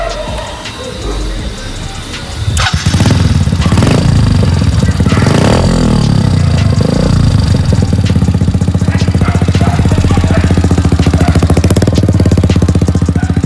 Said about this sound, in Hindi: तो एक बार आवाज़ सुना दो एग्जॉस्ट का